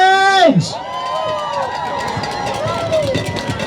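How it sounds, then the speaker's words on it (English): A crowd at the Worldwide Rally for Freedom in Halifax cheers and claps in a steady, dense roar after a brief rising tonal sound, sustained at a fairly even loudness throughout. "Big round of applause for fellow Nova Scotians."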